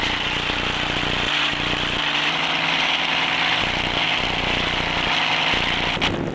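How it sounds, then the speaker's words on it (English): A new salt flats racing engine at Lake Gairdner fires up and runs, a loud steady mechanical roar close by that holds continuously with slight shifts in tone, no voices over it. "And Walkey fires up the new engine. Sounds very strong."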